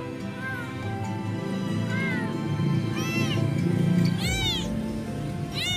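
Abandoned, starving kittens, one of four, meow repeatedly in shrill, plaintive cries, growing louder and more frequent midway, over a low background rumble.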